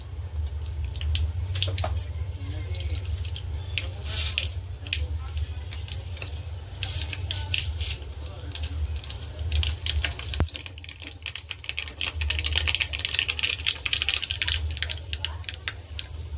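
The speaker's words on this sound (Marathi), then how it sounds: "राई चांगली आपली तडतडली" Mustard seeds popping in hot oil for a raw mango kadhi, a scatter of sharp crackling clicks over a low steady hum, with someone talking at times.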